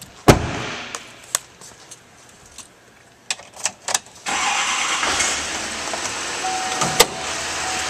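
A 2011 Chevrolet Silverado 2500 LTZ crew cab with the 6.6L LML diesel starts after a few scattered clicks and thumps, then settles into a steady, close idle running to the end.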